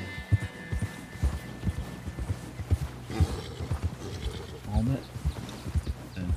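Horse hooves in a video game, a rhythmic clip-clop of steady footfalls under a person talking, with a brief neigh-like sound near the end.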